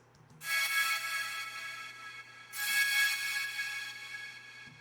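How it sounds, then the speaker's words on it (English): A wavetable synth pad from Ableton, used in the final drop of an electronic track, swells in twice with bright sustained harmonic chords over a low steady drone, each swell slowly fading, with no voices. "And for the last drop, I added a pad"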